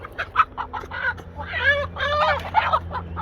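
Turkeys at cattle feeders call in a flurry of gobbling, clucking notes, some short and some drawn out, fairly close, over a low steady hum.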